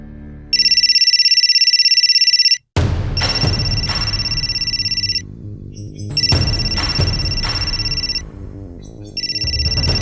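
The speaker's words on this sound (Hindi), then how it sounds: "राबिया का फोन है सर।" An electronic phone ringtone sounding as an incoming call arrives: loud repeated high-pitched ringing bursts alternating with a backing beat, with no voices.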